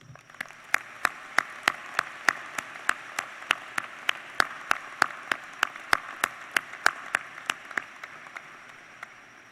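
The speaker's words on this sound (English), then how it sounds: "Please join me in applause to acknowledge the scholastic achievement of all of these students." Applause at a university commencement ceremony, sharp, evenly spaced claps in a steady rhythm over a soft background wash, sustained throughout with no voices.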